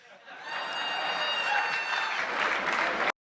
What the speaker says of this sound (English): Big round of screaming applause.